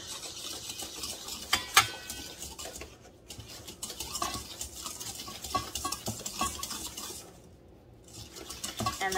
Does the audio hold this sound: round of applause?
no